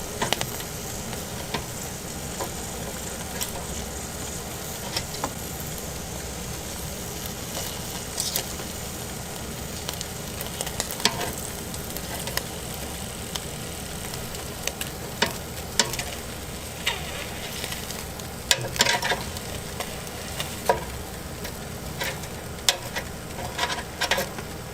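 Fish sizzles steadily in hot oil, a dense crackling hiss running the whole time with scattered louder pops and spatters, close up and alone with no voices.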